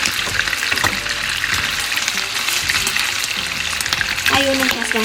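Fresh scallops frying in butter in a pan, a steady close sizzle and crackle running throughout, with faint kitchen clinks and a voice speaking briefly over it.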